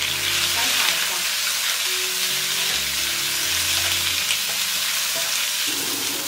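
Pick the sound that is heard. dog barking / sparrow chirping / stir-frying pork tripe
stir-frying pork tripe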